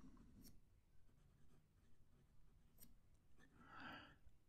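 A Delike New Moon 2 fountain pen with a fine nib writing on card, faint soft scratching strokes with brief pauses and a slightly louder scribble near the end, quiet and close.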